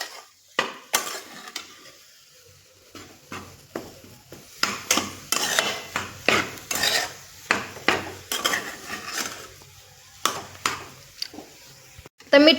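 Hands mixing mashed potato filling for vada pav in a metal bowl, giving irregular clinks, scrapes and soft squelching knocks at close range with no talk.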